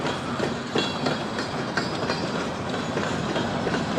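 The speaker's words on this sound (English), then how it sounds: "Here comes some coal cars." Freight train coal cars rolling past while leaving a rail yard, a loud, close, continuous rumble with steady wheel clatter and faint metallic squeals.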